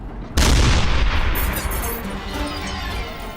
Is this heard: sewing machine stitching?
no